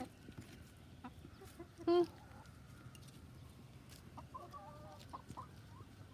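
Backyard chickens clucking softly at close range, with one louder, brief squawk near the middle and a few scattered calls later, under a man's speech.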